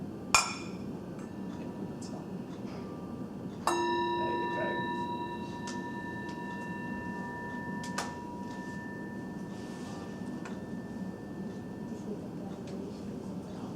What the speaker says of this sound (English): I want everybody to kind of feel the energy of the bell, just ring it